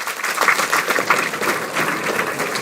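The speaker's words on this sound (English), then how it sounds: "big round of applause to our principal" A college audience at a student induction programme applauds for the principal on his birthday, with dense continuous clapping from a large crowd that stays loud and even.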